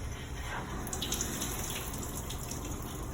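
Hot water runs steadily from a sink tap onto an auto scrubber part being rinsed, a continuous close hiss of flowing and splashing water with no voices.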